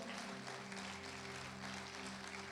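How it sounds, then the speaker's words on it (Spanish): A church congregation claps for the Lord, a continuous even patter of hands with low sustained instrument tones and hum running beneath. "Démosle un aplauso fuerte al Señor."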